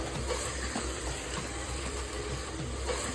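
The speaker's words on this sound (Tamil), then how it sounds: "இதையும் சேர்த்து நல்லா வதக்கி விட்டுட்டு" Chicken biryani ingredients sautéing in a pan, a continuous loud frying hiss with faint stirring scrapes, steady from start to finish and no voices.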